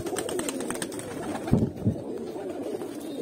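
Pigeons cooing close by, low throaty rolling coos repeating over a background of light ambient noise, with a couple of louder coos in the middle.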